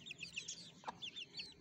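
A hen clucks softly near her growing chicks, a string of short, quiet chirpy clucks in an uneven rhythm with one sharper call midway, close by and alone.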